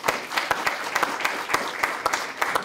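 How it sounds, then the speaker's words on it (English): An audience in a Maine art college hall gives a round of applause, dense and sustained clapping from many people, fairly loud and close, with distinct individual claps standing out from the steady roar. "I want to give a large round of applause for those folks joining us today"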